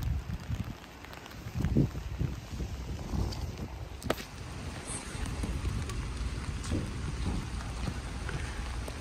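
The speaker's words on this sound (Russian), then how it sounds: "А дождь все идет и идет." Steady rain patters outdoors near a small church in Zürich, Switzerland, with a broad hiss, a few low rumbles and faint murmurs underneath, continuous throughout.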